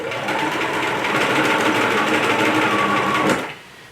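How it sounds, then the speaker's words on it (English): A sewing machine stitches an apron in one steady, fast, close run of about three seconds, then stops abruptly. "I might be sewing a little fast."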